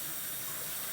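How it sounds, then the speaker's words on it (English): Cold tap water pours steadily over cooked rice for Persian jewelled rice, a brief, close, continuous rushing stream with no talk. "you would run cold water immediately on it to stop the cooking process"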